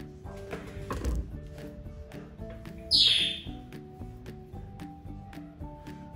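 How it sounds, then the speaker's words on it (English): Escaping pet birds chirp indoors in quick, faint tweets, with one sharper, louder squawk midway, over a quiet steady tonal background. "Escaping birds."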